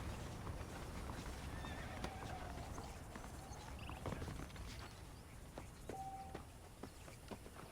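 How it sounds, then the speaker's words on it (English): Horses in the Red Dead Redemption video game whinny and clip-clop steadily over a busy game soundscape, with one clear neigh standing out, no talk. "The horses are saddled up over here."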